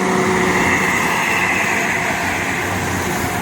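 A Toyota Camry passes on an Indonesian road amid steady traffic noise, its engine a continuous nearby whir with a light, high-pitched tone.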